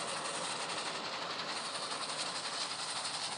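A train runs along the rails in the video game Dead Rails, giving a steady rumbling hiss with faint rhythmic clatter, heard alone without talk.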